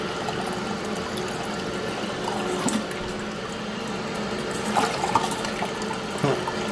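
A toilet tank keeps running because its flapper is hung up, making a continuous soft hiss and trickle of water with a few faint clunks. It is moderately quiet and steady, and no one speaks over it.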